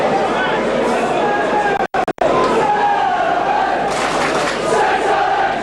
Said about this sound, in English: the crowd now coming to life